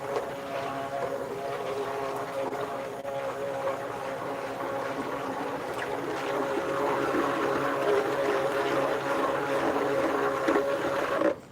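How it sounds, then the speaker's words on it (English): Handheld stick blender whirring steadily through oil and lye water while making soap, a continuous close motor drone with a grinding texture that builds slightly louder toward the end before cutting off. "let's get us another stick blender out."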